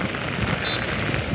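Heavy monsoon rain pouring onto a Mumbai street in the Fort area during high tide, a dense, steady, loud hiss of falling water filling the whole stretch with no letup and no voices.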